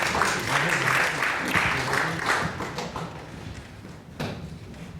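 Audience in a forum hall applauds, a dense burst of clapping that is loud at first and then tapers off.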